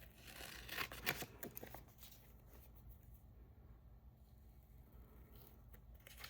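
Scissors cut paper from a Bible journaling packet, a quick cluster of crisp snips near the start, then quiet faint rustling, soft and close.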